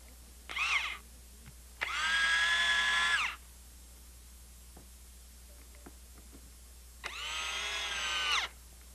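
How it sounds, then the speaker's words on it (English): A power drill drives wood screws into wooden nailers during mantel finish carpentry: a brief whir, then two sustained loud runs of the motor, each ending abruptly, with quiet pauses between. "we can locate and secure the 3 nailers using wood screws"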